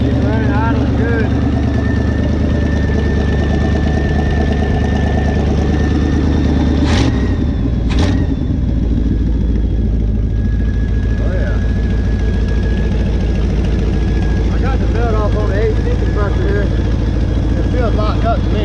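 The engine of a 1977 Chevy K20 Squarebody pickup truck rumbles loudly at a steady idle throughout, with a couple of sharp clicks partway through and voices talking over it at times.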